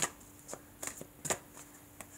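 Tarot cards being shuffled by hand, a series of soft, close riffling flicks and taps in an irregular rhythm over a faint steady hum.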